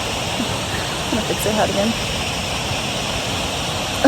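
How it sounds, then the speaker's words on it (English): Tumalo Falls near Bend, Oregon, a broad steady roar of falling water filling the background while someone talks close by over it. "look, it's a waterfall. It's a waterfall behind us"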